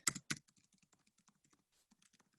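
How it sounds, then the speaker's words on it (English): An email address is typed on a computer keyboard in a quiet room: two louder key clacks, then a steady run of soft, close keystrokes tapping at an even pace. "So I'm just going to type in again my email address."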